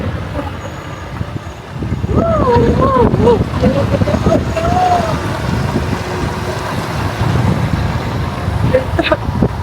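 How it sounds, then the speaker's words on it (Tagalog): Strong wind in the Dutch countryside buffets the microphone in a loud, constant roar while a person speaks briefly over it. "Sobrang lakas kasi ng hangin"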